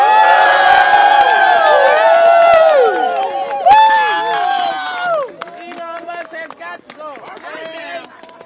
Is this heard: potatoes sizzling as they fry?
no